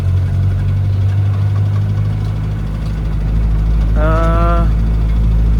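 A 1980 Mitsubishi Jeep J44 engine drones steadily while driving, a loud low hum with constant rumble, briefly joined by a higher whining tone near the end.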